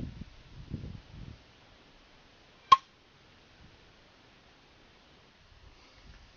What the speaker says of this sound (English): There again, you heard the pop, almost like a bottle top coming open.